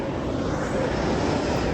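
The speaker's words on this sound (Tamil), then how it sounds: "ஹீத்ரோ டெர்மினல் கிட்ட ஃப்ளைட் லேண்ட் ஆகிறது" An airplane landing near the terminal at Heathrow Airport roars as a steady, loud, broadband jet rumble that fills the whole stretch without a break.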